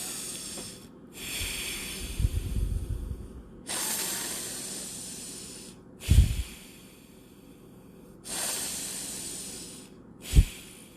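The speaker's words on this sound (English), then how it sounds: "tighten your throat to make a sound similar to a light snore as you inhale and exhale through your nose" A person breathes slowly in and out through the nose with a tightened throat, making a light, hissing snore-like rasp on each breath, with a few louder snorting exhalations and short pauses between breaths.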